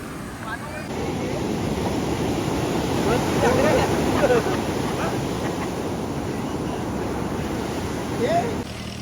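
Steady rushing water and sea surf splashing against something close by at Kashid beach, Alibag, broad and noisy throughout, with wind buffeting the microphone and faint voices underneath.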